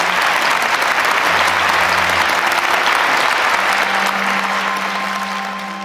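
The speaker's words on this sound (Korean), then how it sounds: "더 큰 박수를 올려주시면 좋겠습니다." Sustained audience applause at a Korean ceremony, a steady, full roar of many hands clapping that holds throughout and tapers slightly at the end.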